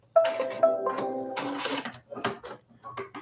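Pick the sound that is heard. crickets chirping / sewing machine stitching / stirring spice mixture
sewing machine stitching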